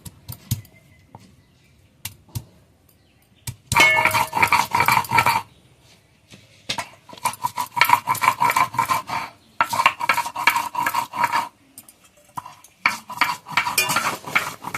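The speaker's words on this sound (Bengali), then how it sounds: "মৌতো ওদিকে আদা রসুন বাটতে বসেছে। আজকে আদা রসুন একদম অল্প লাগবে" Ginger and garlic being ground on a shil stone slab, rough rasping strokes in repeated bursts separated by short pauses, close and fairly loud, with no talk.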